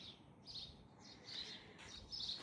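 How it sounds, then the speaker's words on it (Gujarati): Birds chirp faintly in short bursts over a quiet outdoor hush, several brief tweets scattered across the moment with no talking. "પક્ષીઓનો અવાજ પણ સરસ મજાનો આવે છે."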